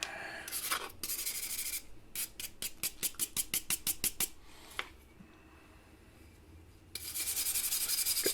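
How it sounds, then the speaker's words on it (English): A steel wire brush scrubs an old cast Snap-On tool in a series of quick, rhythmic bristly strokes, with a few longer rasping passes at the start and end, close up and with no talking. "Steel bristles aren't scratching it too much."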